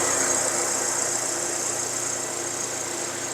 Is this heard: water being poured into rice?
no